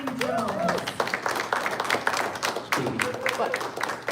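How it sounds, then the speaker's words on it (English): Applause from a seated audience greeting speaker Wayne Jones at a spiritual talk, steady clapping throughout with voices talking over it. "Give a round of applause for Wayne Jones."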